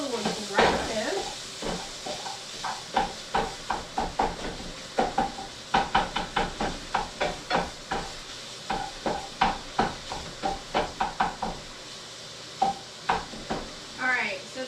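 Plain basic sausage frying in a pan, a steady sizzle and hiss with repeated stirring scrapes and utensil clicks in a fast rhythm, close and fairly loud, with a voice talking over it now and then.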